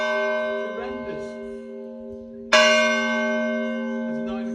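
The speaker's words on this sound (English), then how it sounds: "the church, which was right next door to us, and whose bells rang every hour on the hour" A church bell right next door rings the hour, with a sustained ringing tone already sounding before a second loud strike lands and decays slowly through the night air.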